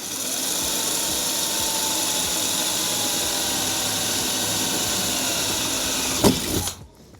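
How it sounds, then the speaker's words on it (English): A power drill bores a rivet hole through a screen door handle bracket, whining steadily at close range for several seconds before stopping abruptly. "So we'll drill the second one with the bracket in place"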